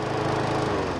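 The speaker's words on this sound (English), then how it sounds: "What the heck was that? The new Masport mower." A Masport lawn mower with a cast alloy body runs steadily, a loud, close, continuous engine drone with a rough buzzing texture and no voices.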